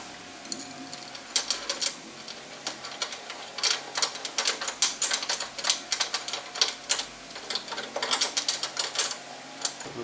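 Bolts of a Steeda trailer tie-down kit being tightened on a 2015-2020 S550 Ford Mustang, heard as rapid, irregular mechanical clicking in dense bursts throughout.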